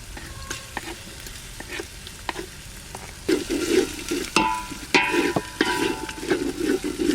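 Cumin, coriander and dry chili paste hit hot oil after ginger and garlic for a Bengali goat curry, sizzling up loudly midway with repeated stirring scrapes over a steady fry.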